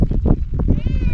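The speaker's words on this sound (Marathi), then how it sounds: "कोण ओरडतंय का मांजरावणी पक्षी." Black drongo perched on a neem branch giving a nasal, cat-like mewing call, a few close wavering notes ending in a rising tonal wail, with a person talking over it.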